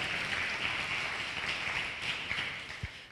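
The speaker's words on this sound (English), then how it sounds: "Give the Tubman City Black Power Resource Guide a round of applause" Audience applause at a lecture event on Black economics, a dense, even wash of clapping from a crowd, fairly steady throughout with a few sharper claps near the end.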